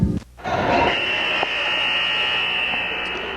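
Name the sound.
loud buzzer at basketball game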